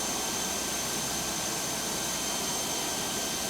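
Epic E1000 G turboprop engine idling while taxiing in X-Plane 12, a loud, steady broadband roar with a constant high whine, continuous and unbroken with no talk.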